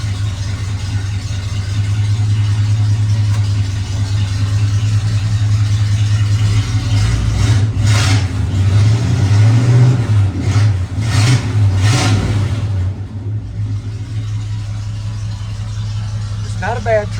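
Unmuffled truck engine running with no muffler, a loud continuous low rumble that swells in several revs around the middle before settling back toward idle, with a person talking over it.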